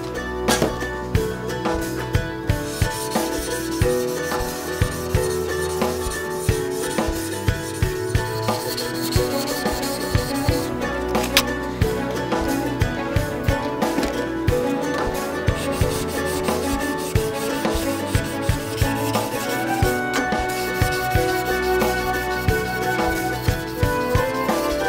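Forged steel combat dagger blade being hand sanded, a continuous close scratchy rubbing with quick repeated back-and-forth strokes in a steady rhythm, heard alone without talk.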